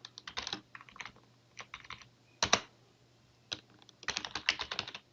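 Keyboard shortcuts tapped on a computer keyboard in an Ubuntu terminal, a close sequence of crisp key clicks arriving in short bursts and clusters with brief pauses, one heavier keystroke standing out midway.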